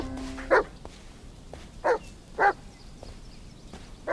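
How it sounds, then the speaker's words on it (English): Dog Bullet in the video game Blair Witch VR, giving three sharp separate barks spaced about a second apart over quiet forest ambience, with a fourth starting at the end. "being barked at incessantly for doing anything other than following the dog"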